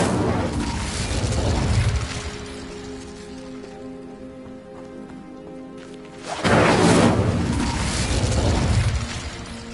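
Incendio fire spell cast in Hogwarts Legacy, a roaring burst of flame that swells loudly, drops away to a quieter tonal stretch, then erupts again into a second long rushing blaze.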